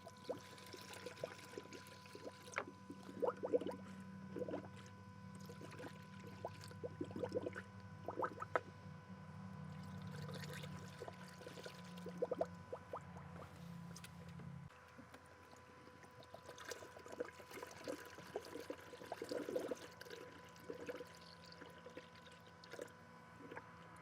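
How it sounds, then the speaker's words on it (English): Water being poured to top up the cooling system of a Subaru Forester after K-Seal was added, a faint, intermittent trickle and splash with a low hum beneath it, quiet and close. "And we'll top up with water the rest of the cooling system."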